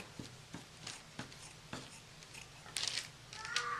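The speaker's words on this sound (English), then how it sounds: "I'm going to cut it apart now using some fabric scissors." Fabric scissors slice through mixed media notebook pages, giving a run of short, crisp snipping strokes at an uneven pace, close and fairly quiet, with a brighter rustle of paper near the end.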